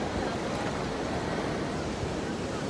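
Water splashes continuously outdoors in a loud, close, broadband wash mixed with wind noise, with no distinct breaks or individual splashes standing out.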